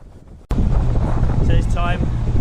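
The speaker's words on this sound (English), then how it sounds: "that wind, it was just far too dangerous" Strong wind buffeting a microphone outdoors, a loud, steady low rumble that begins abruptly and carries on throughout, with a brief voice over it.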